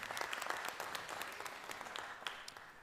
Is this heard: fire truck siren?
no